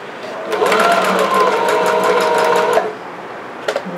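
Sewing machine stitching elastic onto a ruffle skirt, running steadily for a couple of seconds at close range, then stopping with a few faint clicks.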